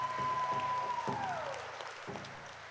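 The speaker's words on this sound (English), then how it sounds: "Let's give them a big round of applause, everybody, for bringing out their drum." Audience applause for drum singers at a powwow-style performance, a steady broadband wash of clapping that fades gradually over a few seconds, with a falling tone sweeping through the middle.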